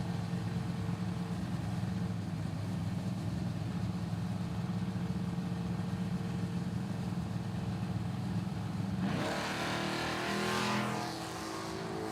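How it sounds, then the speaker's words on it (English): Drag racing hot rod launching at a footbrake bracket race: a loud, steady engine roar holds for about nine seconds, then the pitch shifts sharply as the car pulls away and the sound thins and fades. "Colby dialed 590 in Dad's hot rod"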